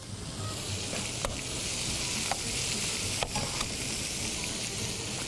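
Onion goes into a hot pan for roasted vegetable chicken soup and is stirred, giving a steady close sizzle broken by several sharp utensil scrapes and clicks against the pan.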